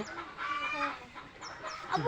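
Native hens out in the open for a dust bath give soft, close clucks and short calls in a brief burst, with light background noise.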